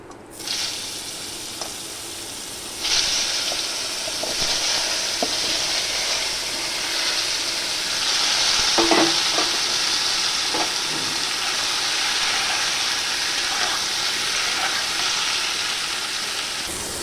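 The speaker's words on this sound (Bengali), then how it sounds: "এঁচোড়টা একটু হালকা করে ভেজে নেব।" Raw jackfruit frying in mustard oil in a kadai gives a steady, bright sizzle that starts a few seconds in and keeps going, with a few small pops and clinks over it.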